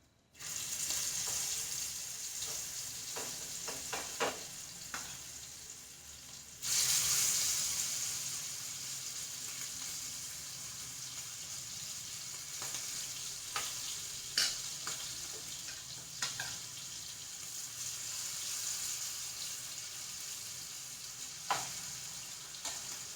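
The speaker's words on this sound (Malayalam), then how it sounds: "ഇനി നമുക്ക് ചെമ്മീൻ അങ്ങോട്ട് ഇട്ട് കൊടുക്കാം" Prawns drop into hot oil with curry leaves for a Kerala prawn roast, a continuous close sizzle broken by sharp clinks and scrapes of stirring, with no talk.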